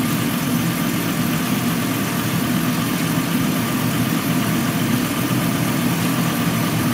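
A 2007 Chrysler Pacifica with an injector problem idles steadily up close, giving a continuous, even engine drone with a low rumble and no voices.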